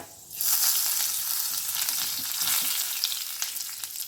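Mustard seeds, fenugreek and curry leaves go into hot oil for a Kerala kathirikka podi, setting off a loud, close, continuous sizzle with faint crackles and stirring underneath, after a brief quiet start.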